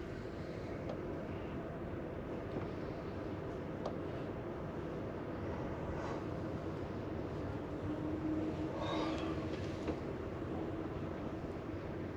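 Aboard a long-distance Amtrak passenger train crossing the western United States, a continuous low rumble of wheels and carriage fills the space, steady and moderately quiet, with occasional faint clicks and creaks and no talking.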